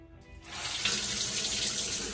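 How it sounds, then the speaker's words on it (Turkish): Water from a caravan shower head starts after a brief quiet moment and then streams steadily under pressure, a loud, close, continuous hiss with no talking. "Şimdi suyun akışını bir gösterelim."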